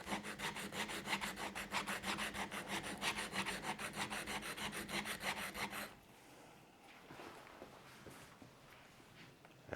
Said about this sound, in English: take my chisel, and I'm going to lay it flat and just start rubbing it back and forth